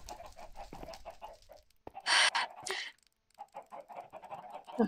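Chickens cluck and squawk in a video game, a loud burst of fowl calls in the middle between stretches of speech-like chatter.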